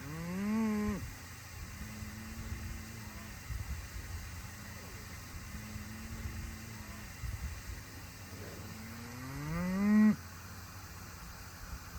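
Cattle on an Arizona ranch let out two long, rising moos, one at the start and one near the end, over a low engine rumble and wind noise.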